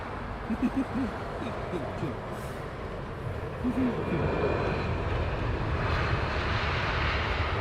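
Airliner engines rumble steadily on an evening arrival at Heathrow Airport, a broad low roar that grows louder toward the end as the plane passes near, with a few faint chirps and voices underneath.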